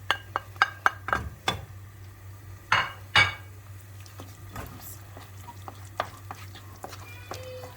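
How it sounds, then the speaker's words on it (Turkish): A spoon scrapes and clinks against a pot in a quick series of strikes, then slower stirring of a thickening, boiling sauce over a low simmering hiss, close and fairly quiet. "Hem koyulaşıyor hem kaynıyor. Kapaklaşmaması için karıştırıyoruz."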